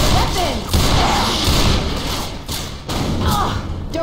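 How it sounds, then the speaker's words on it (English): A grenade launcher firing in the zombie shooter Left 4 Dead 2, producing heavy thudding booms, several spaced hits amid game noise, with voices talking over them. "Grenade launcher."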